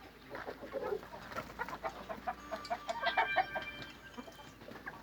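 Aseel roosters and hens cluck softly and intermittently from breeding coops, the calls faint and somewhat distant over a low background hum.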